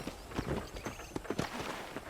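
Horse hooves clip-clop at a steady walking pace as a rider travels in the video game Red Dead Redemption, moderately close and fairly quiet over a soft outdoor ambience.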